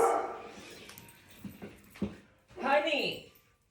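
A dog whimpers and gives a few short yips and barks up close, with a voice talking over it at the start.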